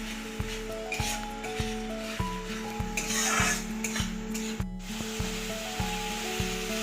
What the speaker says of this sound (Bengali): সব মশলা তেলের মধ্যে একটু ভালো করে কষিয়ে নিতে হবে